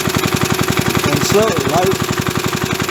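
A 37-year-old Briggs small engine chugs at slow idle with loud, evenly spaced firing pulses, while a voice speaks briefly over it.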